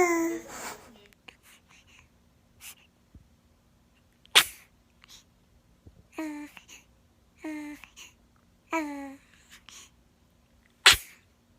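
A baby sneezes several times, each a quick little burst, with soft babbling and whimpering sounds between the sneezes.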